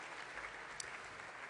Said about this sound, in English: so that we can clap